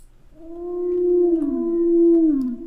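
An Aerwhale from the Minecraft Aether II mod lets out a single long, tonal, howl-like call that swells in the middle and bends downward near the end, loud and alone.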